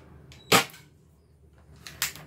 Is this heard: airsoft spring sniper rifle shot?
yes